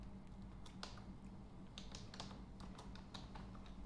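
Fingers type rapidly on a computer keyboard during a typing speed test, a steady flurry of light close clicks with no pauses, fairly quiet.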